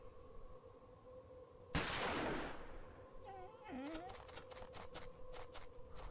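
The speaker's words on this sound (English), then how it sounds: "The gunshot seems to have frightened him off." A single sharp gunshot in the video game Murder on the Orient Express booms and rings out over a low ambient hum, followed by faint animal cries and scattered clicks.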